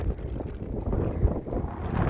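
Steady wind buffets the microphone on the flat, wide summit of Mount Cameron, a 14,268-foot Colorado peak, a continuous loud rushing roar with gusty swells and no voices.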